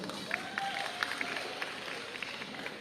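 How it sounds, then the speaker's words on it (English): Audience applause at an opening night ceremony for the JCI Visayas candidates, a faint crowd clapping and cheering in a hall, steady through the clip with scattered sharper claps and crowd murmur. "A round of applause for them."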